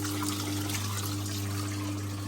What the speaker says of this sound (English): You can see it's wringing a lot of water out